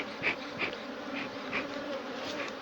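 Honey bees buzz around a hive box in a Jamaican apiary during work on a laying worker colony, a steady droning hum with individual bees swelling louder as they fly close past, no voices.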